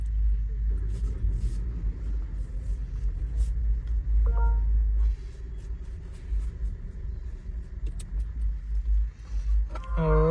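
A Kia Seltos HTK engine fires up and settles into a low, steady idle rumble, close by, with occasional clicks and small interior handling noises over it.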